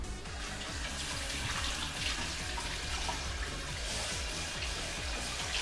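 Tap water runs steadily into a cooking pot for boiling rice, a continuous close splashing rush with no talk over it.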